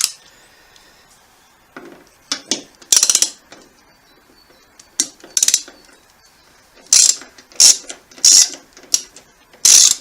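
A ratchet with a T45 Torx bit undoes a bolt on a Suffolk Sport Glide docking kit, making bursts of close, sharp clicking strokes separated by quiet pauses, some strokes short and some in quick repeated runs.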